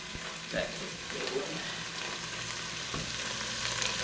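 Green onion sizzling in a pan with chili chicken and mushrooms, a close steady fry hiss with a few soft stirring scrapes.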